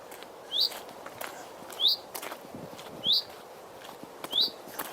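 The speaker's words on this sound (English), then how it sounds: "Noisy bird." A bird calls loudly along Hadrian's Wall in open countryside, giving four evenly spaced single calls about a second apart over soft background noise.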